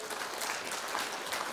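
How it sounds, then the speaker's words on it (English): Church congregation applauding after hearing the building fund goal was exceeded: a brief, even wash of clapping from many hands at moderate volume, with no speech over it. "You should clap."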